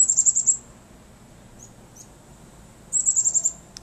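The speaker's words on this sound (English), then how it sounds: "Glad the birds are back out though after the storm here and singing to us." A bird sings in a snowy Bangor, Maine backyard after Winter Storm Nemo, giving two bursts of rapid, high, repeated chirps separated by a quiet pause, clear and fairly near.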